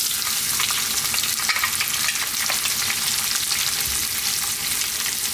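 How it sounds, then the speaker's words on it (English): Onions frying in hot oil already infused with cumin for an Indian-style vegan lentil soup give off a steady, close, dense sizzle that runs the whole time, with faint stirring and no talk. "Now we're going to add in our onions."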